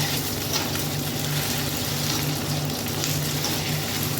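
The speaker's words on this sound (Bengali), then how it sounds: "প্রায় 1 মিনিট ধরে কিন্তু এটাকে আমি ভাজবো, নাড়াচাড়া করবো" Puishaak (Malabar spinach) frying in a pan, a steady dense sizzle with a watery hiss throughout, fairly close and even in loudness, with no talk.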